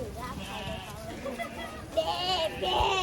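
A voice imitating a sheep's bleat, giving a few wavering, nasal bleating calls up close, with other talk around them.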